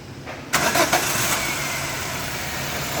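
A Chevrolet Sail with a camshaft position sensor fault starts up: a sharp crank and catch after a brief quiet moment, then the engine settles into a steady, fairly loud idle nearby.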